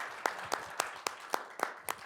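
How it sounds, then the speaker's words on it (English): Faint, evenly spaced hand claps at a steady quick rhythm, about four per second, from the audience after a panel at a Web3 gaming conference, sounding sparse and somewhat distant. "I'd like to give them a good round of applause"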